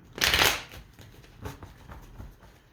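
A quick riffle of tarot cards being shuffled close by, followed by a few softer taps and slides of the deck.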